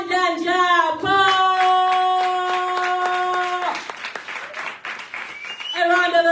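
Applause at a live poetry slam event, a steady wash of clapping from the audience that mixes with sustained musical tones and a voice, swelling briefly near the end.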